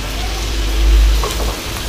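Mushrooms frying with chilli sauce and soy sauce in a restaurant-style chilli mushroom dry dish, a broad sizzle with soft scraping stirs near the end, fairly loud and close, no talking.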